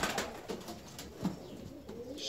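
Fancy ornamental pigeons cooing softly in a loft, low burbling calls repeating in short bursts over a steady background hiss.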